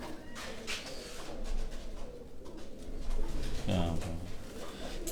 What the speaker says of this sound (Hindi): उनके हाथ में जो आप कबूतर देख रहे हैं ये नर कबूतर है